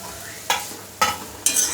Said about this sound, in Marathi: हे आधी चांगलं तेलात फ्राय करून घ्यायचं